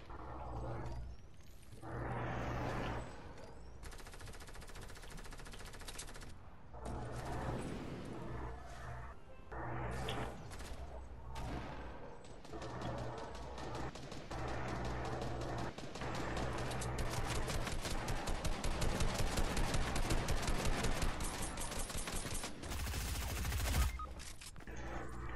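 Fortnite gunfire crackles in rapid bursts and long automatic volleys, with some single cracks between them, growing denser and louder toward the end.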